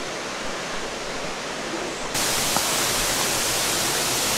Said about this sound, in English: So just making our way down here, you can hear the waterfall.